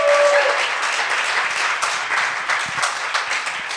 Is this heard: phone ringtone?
no